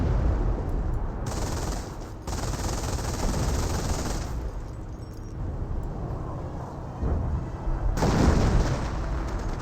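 Gunfire and artillery fire in the World War II strategy game Company of Heroes: dense bursts of rattling shots and booms in waves, loud and continuous, swelling again near the end.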